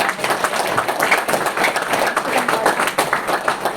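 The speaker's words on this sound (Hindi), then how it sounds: "आपके लिए तालियां तो बजनी चाहिए।" Audience at a spoken gathering breaking into steady, close clapping that continues evenly for a few seconds with faint voices mixed in.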